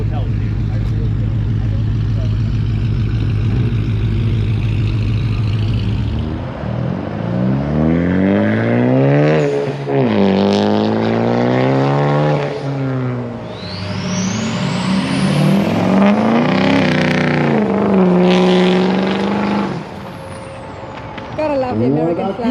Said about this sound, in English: we're gonna have a look at the exhaust competition. Whoever's got the biggest exhaust, the louder sound